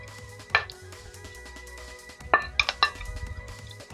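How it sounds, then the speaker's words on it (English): Pieces of pork dropped into a slow cooker for an Asian pork and potato stew, a few clinking, knocking impacts of utensil against the pot, one early then a cluster near the end, over a quiet low background. "In my slow cooker, I'm going to add in the pork."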